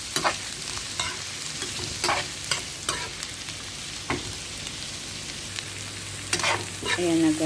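Onions being stirred and fried in a pan: constant hissing sizzle broken by intermittent scraping stirs, close-up, with a faint low hum appearing near the end.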